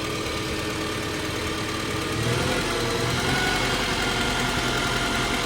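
A Farmall Super-A tractor engine runs steadily at a low idle with an even mechanical chug, loud and close, holding constant throughout without speech.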